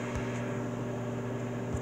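A microwave oven heating a chicken melt hums steadily and evenly at a constant level, a close, continuous drone with faint mechanical clicks and no voices.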